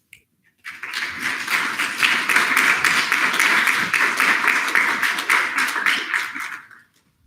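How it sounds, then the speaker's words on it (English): Applause from a student government senate audience swells in and holds steady for about six seconds as a dense, crackling wash of many hands clapping, then tapers off. "a round of applause"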